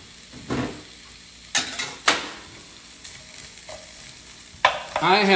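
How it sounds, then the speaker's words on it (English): Bacon strips easing into a pan for pasta carbonara give off a gentle sizzle, broken by a few louder clatters and stirring knocks, ending in a brief scraping squeal, with no talk. "So we want this bacon to just ease its way into frying."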